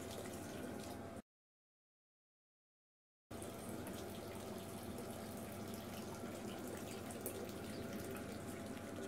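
Water flows steadily from a water heater fed by a Chinese diesel heater, a soft continuous hiss and trickle with a brief silent gap early on.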